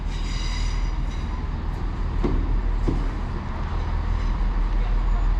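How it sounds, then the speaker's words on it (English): A Great Western Railway passenger train, unit 166218, arrives at Crewkerne station, rumbling steadily nearby with a low continuous roar and faint metallic clicks, people talking faintly underneath. "arriving now is the 1825 Great Western Railway service from Weymouth to Bristol Temple Meads."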